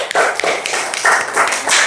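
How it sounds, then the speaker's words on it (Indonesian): Children clap their hands together in a short burst of applause, a dense, lively patter of close claps lasting about two seconds. "Tepuk tangan buat semuanya."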